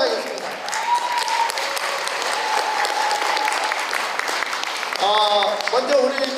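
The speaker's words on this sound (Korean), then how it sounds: "구판홍 총재님께 큰 박수" Loud crowd applause at an NGO broadcasting launch and Korea-Mongolia federation opening ceremony, dense clapping with voices and tones rising over it toward the end.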